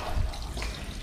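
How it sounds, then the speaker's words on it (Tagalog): A weak trickle of tap water runs over hands being washed at an outdoor faucet, a close, low, rushing splash that lasts about a second with no talk. "Hina ng tubig ah."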